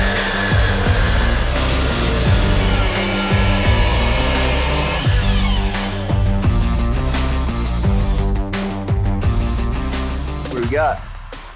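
Saw cutting through metal rear axle stock for a cross kart being built with a Tillotson 225 engine, a steady continuous rasping that runs loud and close for most of the stretch before stopping near the end, with voices talking over it.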